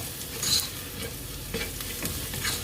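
Onion and curry leaves sautéing in oil for Kerala beetroot thoran, a steady close sizzle broken by several scraping stirs of a spoon in the pan, with no voices.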